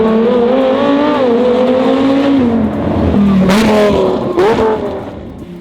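Very loud car exhaust fitted with valvetronic headers, a close, sustained raspy drone whose pitch dips and rises as the engine revs, with short sharp blasts near the end and no talk.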